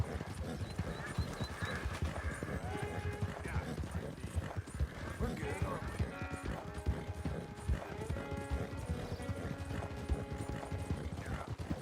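Video-game horses, a White Arabian, a Chocolate Roan Dutch Warmblood and a Perlino Andalusian, gallop in a time-trial race with rapid, steady hoofbeats, an occasional whinny and faint mechanical clicks.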